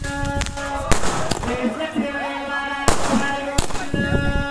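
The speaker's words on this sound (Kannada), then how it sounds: "ಪಟಾಕಿ ಅನಿಸ್ತಾ ಇದ್ದಾರೆ." Firecrackers set off at a village Ganesha festival puja: several sharp bangs burst out over a busy background of festive music and voices, some loud and close, others spaced a second or two apart.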